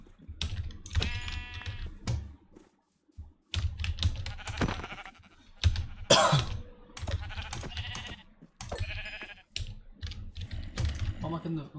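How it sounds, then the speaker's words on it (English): Sheep bleat in the Minecraft video game, several calls scattered among steady keyboard clicking, and someone talks on and off over the sounds. "The sheep, we kill them for the food."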